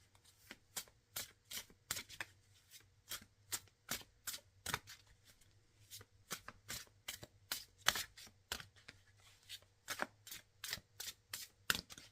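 Tarot cards are shuffled in a long, even run of crisp snapping bridges and riffles, close and quiet, steady throughout with no voices.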